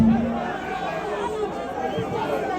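A student crowd at a UNILAG campus concert on a school music tour fills the air with steady chatter and cheering, a dense continuous babble of many voices at even loudness throughout.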